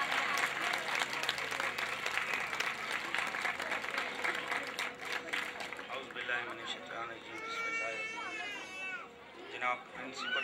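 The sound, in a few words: audience applause at school program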